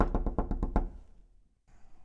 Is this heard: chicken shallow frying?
no